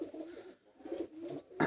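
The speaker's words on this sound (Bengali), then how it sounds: "এই পেয়ারটা চুহা কবুতর।" Chuya pigeons, a pair kept at home for sale, cooing softly in low repeated murmurs, close by and fairly quiet, with a brief louder rustle at the end.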